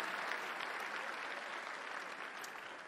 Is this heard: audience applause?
yes